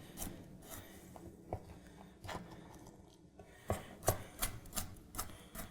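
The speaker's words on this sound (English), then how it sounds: "And it would just be chopping them into little moons." Baby carrots being chopped into small rounds on a cutting board, a series of sharp knife taps that grow more frequent toward the end, close and fairly quiet with no talk.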